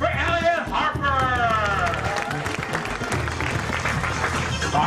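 A crowd at an RC touring car world championship in Bangkok applauds in a dense, sustained patter while an announcer's voice carries over it.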